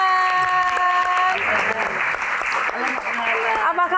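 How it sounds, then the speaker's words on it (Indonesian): An audience claps warmly at a Q&A event, with steady applause rising and a host speaking over it. "Mbak Yesi, tepuk tangan sekali lagi yang paling meriah teman-teman."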